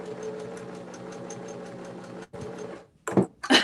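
A sewing machine stitches a patchwork pillow cover with a steady, humming run, pausing briefly midway before a few short, louder bursts near the end.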